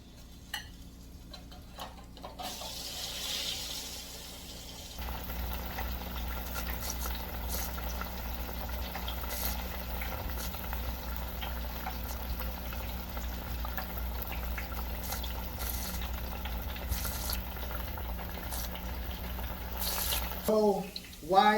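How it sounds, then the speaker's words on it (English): Steady bubbling sizzle of chicken deep-frying in hot oil, continuous and close, with brief clinks and a clatter near the end. "So while our chicken is being fried, we will prepare our sauce."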